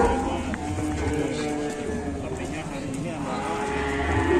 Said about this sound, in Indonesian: Jadi sapi terbesar ini di Pon Ambarawa ini.